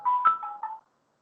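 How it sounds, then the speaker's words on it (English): A phone rings with an incoming call: a brief electronic ringtone of a few clear melodic notes, moderately loud and heard alone before cutting off into silence. "there was a phone call came in between"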